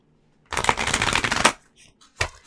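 A deck of oracle cards shuffled close up, one long riffling burst of about a second followed by a few softer flutters and a short final riffle, with no voice.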